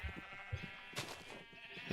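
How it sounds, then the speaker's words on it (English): Sheep bleating in the Minecraft video game, a faint bleat swelling once midway through, with soft low thumps around it and no talk. "I'm trying to shear the sheep, but I can't keep up with how fast their wool's growing back."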